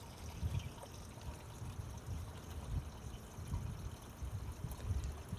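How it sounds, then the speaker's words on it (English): Water poured steadily into a sprayer tank to make a two-gallon mixture, a soft continuous trickle and gurgle at low level, with no voices. "So we're going to pour enough water in here to have a 2-gallon mixture."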